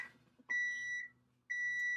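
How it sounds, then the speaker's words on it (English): An oven timer gives two long, steady electronic beeps about a second apart, clear and fairly close, with quiet kitchen background between them. "So there's the timer."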